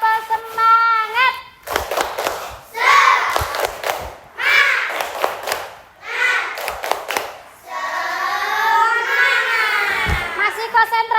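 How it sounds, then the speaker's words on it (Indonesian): Children in an Indonesian classroom perform a rhythmic spirit clapping chant, sharp claps in bursts alternating with loud chanted voices, close and lively, a teacher's voice briefly between. "Coba tepuk semangatnya, mana tepuk semangat?"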